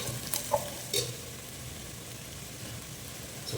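Chili powder stirred into a frying fish curry masala for fried fish kulambu: a soft, steady sizzle of oil with a few light scraping stirs near the start, fairly quiet and without talk.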